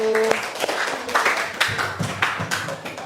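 An audience in a school classroom claps for a group that has just presented, a short scattered round of hand claps, fairly close and moderate, with some voices underneath.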